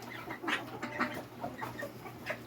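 Backyard chickens cooped up in a pen clucking softly, several short calls and pecking sounds at a moderate distance over a low steady hum, no talk.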